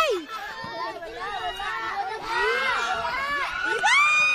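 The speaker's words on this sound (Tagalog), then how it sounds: "Gusto nila palakasan ng sigaw." Crowd at a basketball game yelling and shouting loudly, many overlapping voices and children's cries rising and falling, with chatter throughout.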